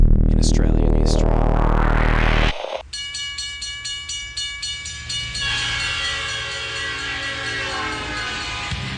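A loud V-Series locomotive train in New South Wales roars past nearby, a low rumble giving way to sustained horn-like tones and rapid rhythmic clatter that continues steadily.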